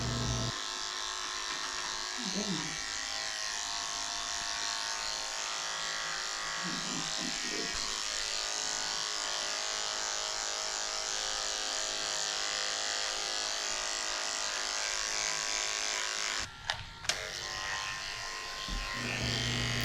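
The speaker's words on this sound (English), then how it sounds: "So I'm shaving out the pads of her feet with a 40 blade, which is very short" Electric dog clippers fitted with a very short 40 blade shave the paw pads of a cockapoo during a grooming shavedown, giving a steady, close buzzing hum throughout with a brief louder clatter near the end.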